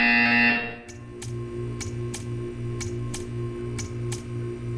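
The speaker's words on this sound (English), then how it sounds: "You will hear a buzzer." Buzzer in the Portal 2 video game, a repeating electronic pulse sounding about seven times at an even, brisk pace over a steady humming background, loud and close, after a louder tone at the start.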